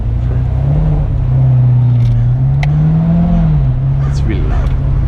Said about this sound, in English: I can give it a couple of revs here.